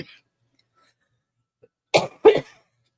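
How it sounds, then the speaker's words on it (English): Two sharp coughs in quick succession after near silence, loud and close, with a faint breath at the start. "I'm just going to cough my hack up a lung."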